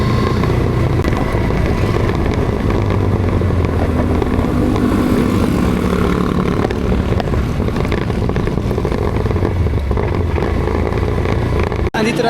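A motorcycle rides along a road in Nueva Vizcaya, its engine drone and wind buffeting the microphone in a loud, constant roar for the whole stretch, cutting off abruptly at the end.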